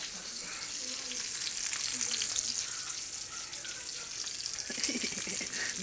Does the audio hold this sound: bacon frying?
yes